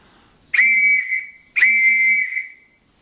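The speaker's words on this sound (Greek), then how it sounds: "παίρνουμε τη σφυρίχτρα και σφυράμε" An emergency whistle is blown for help on a hike: two loud, shrill blasts, each held for about half a second to a second, close and clear against silence.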